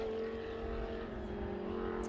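A blue Porsche 991 GT3 Cup race car on a circuit gives a steady, loud engine drone with a sustained tone, holding revs without clear shifts and no talk.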